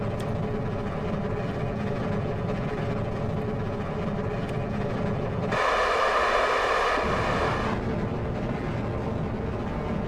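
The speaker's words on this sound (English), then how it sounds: "Thrust tailing off, SRB standing by for separation." In a spaceflight video game, solid rocket booster thrust tails off as a loud, steady engine roar, with its tone shifting partway through before settling back to a constant rush.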